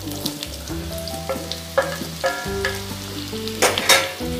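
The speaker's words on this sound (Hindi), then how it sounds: "यहाँ पे मैं डालने वाली हूँ इसमें कटे हुए आम जिसको अम्बियाँ भी बोलते हैं उसको डाल देती हूँ" Chopped raw green mango pieces drop into spices frying in a pan, giving a close crackling sizzle with a few sharper bursts over tonal background music, and no one speaks.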